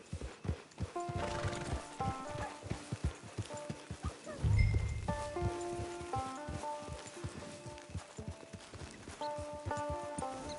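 A horse in the video game Red Dead Redemption 2 trots with steady clip-clop hoofbeats and gives a brief snort or whinny midway, all set under a soft melodic game music score.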